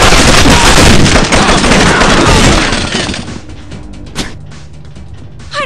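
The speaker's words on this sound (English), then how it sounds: "Pull out the pepper gun." Pepper gun firing in the SWAT 4 video game, a loud dense barrage of rapid shots that tapers off into scattered pops and echoes, with no talk.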